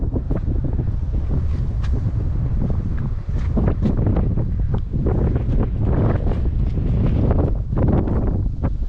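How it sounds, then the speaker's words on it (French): Strong wind buffets the microphone continuously in the potters' village of Guellala on Djerba, a loud roaring rumble with gusty bursts throughout and no voices. "Ouais, il y a du vent quand même."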